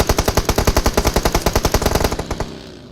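Rapid machine gun fire in a video game, a loud, close burst of evenly spaced shots lasting over two seconds before cutting off into a fading tail, with no voices.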